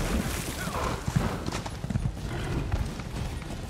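Horse hooves clip-clop steadily in the Elder Scrolls Online swamp setting, a close, even trotting rhythm with a few sharper knocks, lightly layered over ambient game noise.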